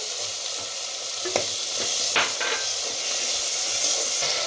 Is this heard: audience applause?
no